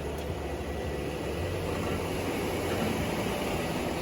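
A rebuilt, previously wrecked Chevrolet Silverado engine is held at full throttle against the brake while trying to spin the tires. It makes a steady, loud, roaring drone with no breaks and no voices.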